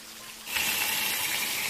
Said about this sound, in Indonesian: Di sini kita juga akan menjumpai air suci yang dialirkan melalui kran yang sudah tersedia.